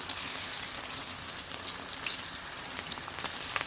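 Fish frying in hot oil for a BBQ fried fish dish, a steady, dense, close sizzle with fine crackling throughout and no voices.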